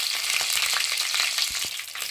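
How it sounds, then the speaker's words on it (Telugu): Mustard seeds and curry leaves hit hot oil for tempering, producing a loud, close, dense crackling sizzle that holds steady throughout with a few small pops and light stirring knocks. "ఆయిల్ హీట్ ఎక్కిన తర్వాత పోపు వేసుకోవాలి పోపు గింజలు కరేపాకు వేసుకోండి"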